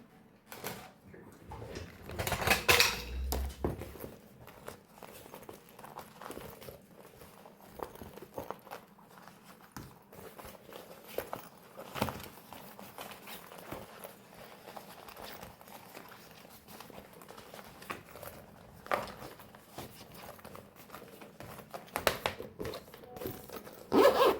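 Sewn fabric baby pouch for holding a comforter being turned right side out, giving soft crumpling and rustling handling noises with a few louder crinkly bursts, close by and without speech.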